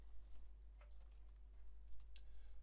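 Quiet, close tapping on a computer keyboard while coding in PHP, a soft irregular patter of keystrokes over a low steady hum.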